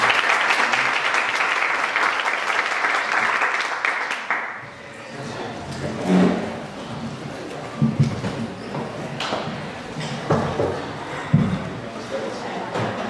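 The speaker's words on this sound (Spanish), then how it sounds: "Recibimos con un fuerte aplauso a la comisionada Rosa María" An audience at a children's rights event in Paraguay applauds to welcome a commissioner. The clapping is dense and steady for about four seconds, then scattered claps, shuffling and taps follow.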